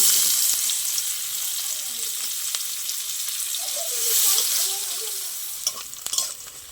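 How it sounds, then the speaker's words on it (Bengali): Chopped onions fry in mustard oil with nigella seeds, a loud continuous hiss and sizzle with occasional stirring clicks from a spatula, steady throughout. "আর পেঁয়াজটা লাল লাল করে ভাজা হয়ে গেছে"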